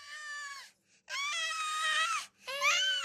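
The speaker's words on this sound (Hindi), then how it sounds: "उनको किसी सियार के बच्चे की रोने की आवाज सुनाई दी" A young jackal cub cries in three long, wavering wails separated by short gaps, high-pitched and close, with no other sound around it.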